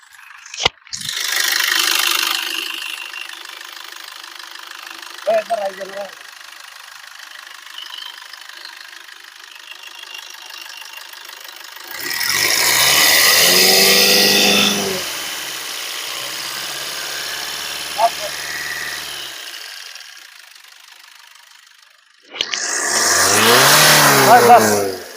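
Maruti Vitara Brezza ZDi Plus diesel engine, idling and briefly revved, a low steady idle running under bursts of nearby talk.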